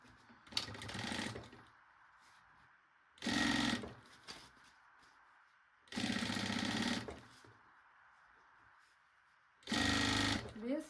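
A sewing machine stitches the lining of a baby backpack in four separate bursts of steady, rapid needle chatter, each a second or so long, with quiet pauses between them.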